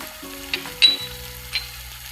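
Garam masala dropped into a hot pan for a spicy Maharashtrian drumstick (shevga) masala gives a faint, soft sizzle, with a few light clinks of a utensil against the pan.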